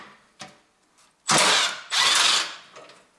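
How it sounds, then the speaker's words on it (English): Socket ratchet loosening a 10mm bolt in the engine bay of a Honda Civic 1.8 R18A1, with two loud, close bursts of rapid clicking between a few faint taps and no talking. "I take my socket, and I open first bolt in here"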